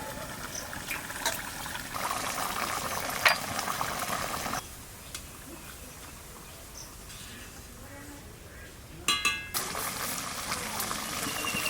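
Mustard hilsa curry simmering uncovered in a pan, a soft continuous bubbling and gentle sizzle with occasional light clinks, fairly quiet throughout.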